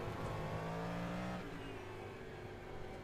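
A Porsche DPi prototype race car's engine in a sim racing game at the 12 Hours of Sebring, revving loudly with rising and falling harmonic pitch as it shifts, close and continuous with no talk.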